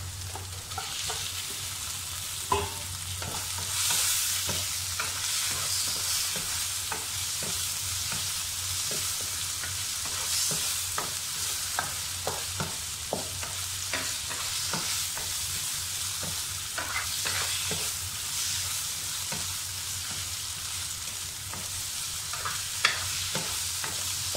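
Shrimp frying in dark caramelized sambal for nasi lemak, sizzling steadily at close range while a spatula stirs and scrapes the pan in repeated strokes, with a few sharper knocks along the way.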